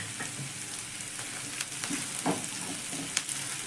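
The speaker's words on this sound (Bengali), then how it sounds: "এগুলো একসঙ্গে দিয়ে নাড়াচাড়া করে আমি একটু ভেজে নেব।" Cashews, raisins and cardamom pods fry in hot oil in a pan, a continuous close sizzle broken by scraping spoon strokes and light clinks as they are stirred.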